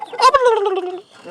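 A single turkey gobble, close and clear, a warbling call lasting about a second with no other sounds around it.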